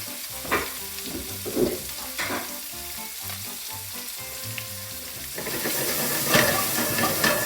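Onions fry in plenty of leftover fat in a pan, a steady close sizzle and hiss with occasional stirring clatters, building slightly louder toward the end.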